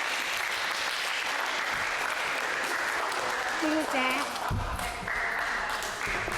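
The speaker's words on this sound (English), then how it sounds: "Give the round of applause." Applause from a crowd fills the room steadily, with scattered voices and a brief tonal ping partway through.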